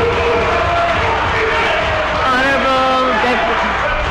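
Members of parliament heckle and shout in a Belizean legislative chamber, a loud continuous din of overlapping raised voices and crowd babble throughout.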